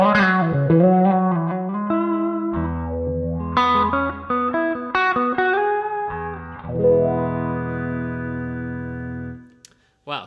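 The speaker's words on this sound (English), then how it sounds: "So now I'm going to switch over to the Xw-2, which is the next wah in line that Xotic has released." Electric guitar run through an Xotic XW-2 wah pedal, playing loud overdriven notes and chords with sweeping filter tones and sustained low chords, alone with no talk, ending in a brief pause.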